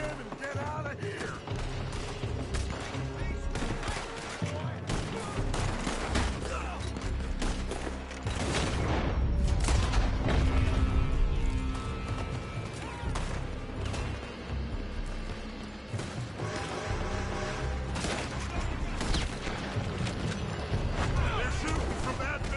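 Gunfire crackles in Red Dead Redemption 2 as shooters fire from a building, with repeated sharp cracks and heavier booming bursts scattered over a busy, rumbling game soundscape, the intensity swelling midway before settling back.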